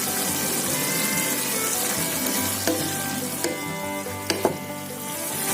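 Chopped red chili is stirred into a pan of frying food, giving a continuous sizzle with a few sharp scrapes and clinks of the utensil against the pan. No voices are heard.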